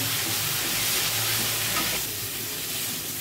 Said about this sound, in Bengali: 1 মিনিট মতো কষবো ভালো করে